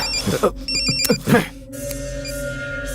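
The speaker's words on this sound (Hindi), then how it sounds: "भाई फोन।" A telephone rings with short, repeated electronic trills over a low background hum, while voices speak briefly in between.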